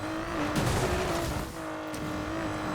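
A Nissan Skyline R32 brakes into a drift in Need for Speed Payback: a steady, droning engine note with a tire squeal and skid, close and continuous, with no voices.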